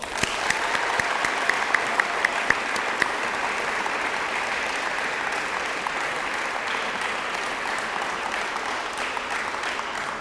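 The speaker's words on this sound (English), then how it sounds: "Round of applause." Steady applause from a crowd gathered to honor back-to-back district champion baseball players at a signing event, dense continuous clapping with a few sharper claps near the start, no speech.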